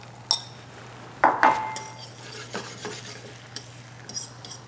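Beaten eggs poured into foaming butter in a stainless steel pan for a French omelette, with sharp metallic clinks and scrapes of utensils against the pan over a soft sizzle, several separate knocks close by.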